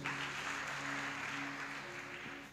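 Church congregation applauding during a Sunday worship service, a steady, broad wash of clapping that holds evenly throughout with a faint sustained tone beneath it.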